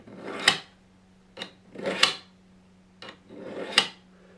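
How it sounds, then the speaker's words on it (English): Serrated knife edge drawn through a Hunter Honer sharpener in three slow, separate rasping passes with light scraping strokes, close and quiet against a faint steady hum. "Now let's go ahead and do the actual sharpening."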